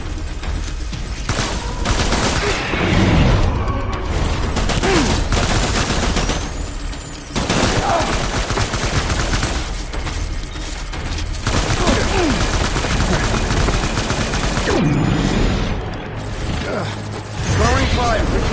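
Gunfire in the Death Stranding video game, a dense and loud stretch of rapid bursts and volleys over a continuous background of explosions and game noise, with short lulls in between.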